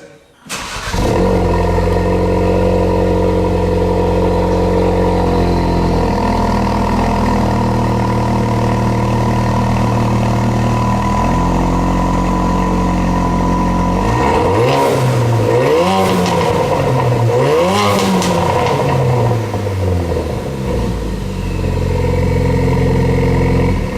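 A 2018 Ford Focus RS with an MBRP cat-back exhaust and Stage 2 tune idles loudly and steadily, then revs hard several times in sharp rising and falling bursts, close and with no talking.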